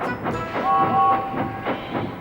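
Steam locomotive running on rails in a children's story setting, a steady rhythmic chuffing and clatter with a held whistle-like tone partway through, fairly loud and continuous.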